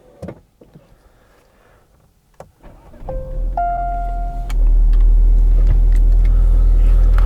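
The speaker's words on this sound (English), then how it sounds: "Let's actually start the car." A 2021 SEAT Leon FR starts up after a few quiet clicks and a brief electric whir, its engine catching and settling into a steady, loud idle rumble close by.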